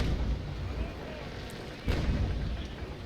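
Ship cannons fire in a Naval Action naval battle between a basic cutter and a privateer: a heavy boom lands near the middle, set against constant low rumbling sea and battle ambience.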